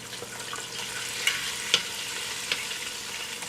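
Breaded chicken fries in hot oil with a steady, close sizzle, broken by a few sharp pops and crackles.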